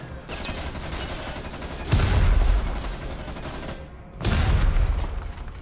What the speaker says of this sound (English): now it is time for the magic that is pipe bombs